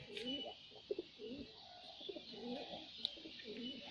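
Kalanka breed pigeons coo softly and continuously in a village pigeon loft in India, with low, rolling, overlapping calls close by and a few faint clicks.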